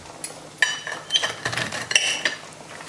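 A knife cuts a small piece of breaded camembert on a plate: light scraping and a few clinks of metal against the plate, close and quiet, with no talk.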